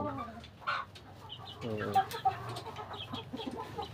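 Native chickens in a backyard cluck in short repeated bursts at close range, with a brief louder call near the middle and a soft rustling background, with no talking.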